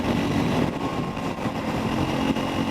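A Triumph Scrambler 400 X motorcycle engine drones steadily at speed on the road, with a continuous loud hum and rumble and wind noise throughout, without any talk.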